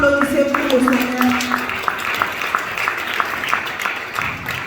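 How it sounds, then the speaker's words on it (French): An audience at a church book-dedication gathering claps steadily throughout. A voice speaks over the opening second. "On peut applaudir pour le Seigneur."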